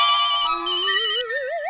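Mehta Sahab's mobile phone ringing with a bright electronic ringtone, a wavering melodic tone that rises and warbles, close and loud, with no voices over it.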